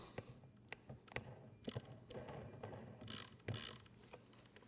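A Harbor Freight diamond wheel is screwed onto the arbor of a Ryobi power tool, giving a series of close metallic clicks and ratcheting knocks as the parts turn and seat, fairly quiet, with no speech.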